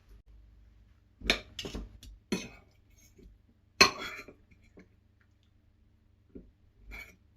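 Sharp clinks of cutlery on a plate as a meal of broad beans and bacon with bread and butter is eaten, a few scattered close taps with quiet gaps between them.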